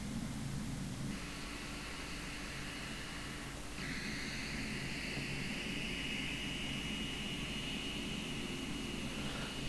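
Boeing 777 jet engines spooling up on a runway in a flight simulator game, a steady, fairly quiet roar with a rising whine that shifts pitch midway, heard alone without talk.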